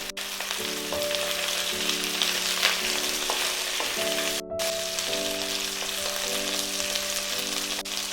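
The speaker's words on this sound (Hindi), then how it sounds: "और अब इन्हें लाइट गोल्डन कलर आने तक फ्राई कर लेंगे।" Pieces of jackfruit fry in hot oil for a home-style sabzi, giving a steady, close sizzle that runs throughout with occasional faint stirring, and no talk over it.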